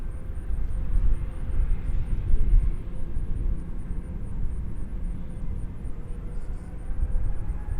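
A Southwest Boeing 737-800 airliner arriving at Nashville International Airport, a broad low engine rumble that swells and holds steady, moderately loud, with a faint high whine above.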